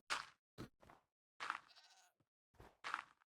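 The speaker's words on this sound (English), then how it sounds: "There's a goat." A goat in the video game Minecraft bleats several times in short, nasal bursts, fairly close and clear, separated by brief silences.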